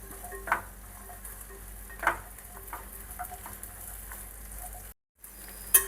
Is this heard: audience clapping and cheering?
no